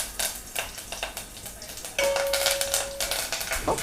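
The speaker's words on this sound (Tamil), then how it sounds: "அடுத்தது கருவேப்பிலை, இது நல்லா போட்டுட்டு நம்ம ஃப்ரை பண்ணிக்கலாம்" Curry leaves and asafoetida fry in hot oil for sambar, a steady close sizzle broken by scraping stirs and metal clinks, with a brief ringing tone midway.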